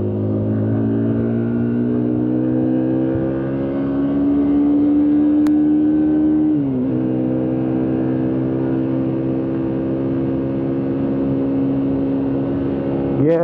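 Modenas Z15GT motorcycle engine droning loud and steady in fourth gear while climbing a hill, its pitch rising slowly, then a brief dip and recovery as the ride continues.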